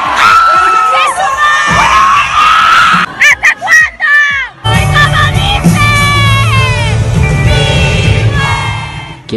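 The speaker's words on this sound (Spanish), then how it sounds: "¡Un aplauso!" A concert crowd at a show cheers, screams and whoops loudly, with shouted voices rising over the noise, a brief dip in the middle, then a sustained roar of cheering.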